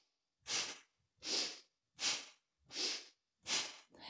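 Slow pranayama breathing with audible exhalations, made up of five long, airy breaths spaced evenly with short silences between them, close and soft, with no voice heard.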